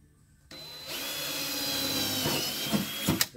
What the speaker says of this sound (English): I'm gonna take my bit here and just drill it out.